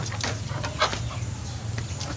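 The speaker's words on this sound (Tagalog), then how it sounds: "Meron pang ditong manok" Chickens cluck in short, scattered bursts nearby over a steady background hum.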